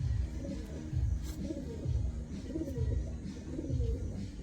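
Pigeons coo nearby in a loft, low repeated throaty rolls about every second, steady and moderately loud with faint rustling behind.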